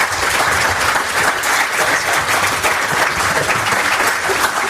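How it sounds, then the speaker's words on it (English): Sustained, dense applause from an audience at the close of a talk at a 2017 London conference, loud and steady throughout with no voices rising above it. "And keep the applause going, come on."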